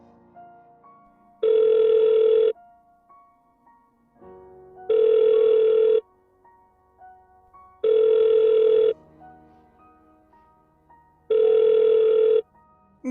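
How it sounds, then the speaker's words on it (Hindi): An outgoing telephone call rings back in four evenly spaced tones, each lasting about a second with long pauses between, clear and steady over faint background music. "गुरुजी को फोन लगाता हूँ"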